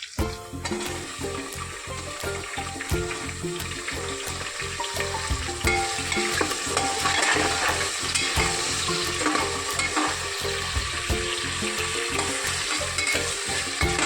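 Onion, tomato and potato sizzle steadily in a hot pan while being stirred, a continuous loud frying hiss with repeated scraping strokes of the spoon, close by and without speech.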